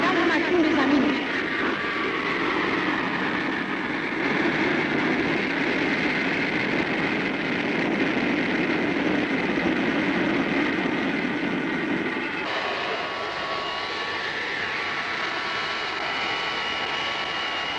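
A fixed-wing passenger aircraft, BOAC flight 776 from London, coming in to land, its engine roar a steady broadband drone throughout that eases slightly near the end, with voices mixed underneath.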